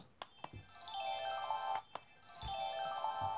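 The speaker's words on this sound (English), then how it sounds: "If you lift the tail, you're going to get some different sounds." A toy robot unicorn gives off electronic sounds when its tail is lifted: sharp clicks, then two rounds of bright, ringtone-like falling chirps, played quietly.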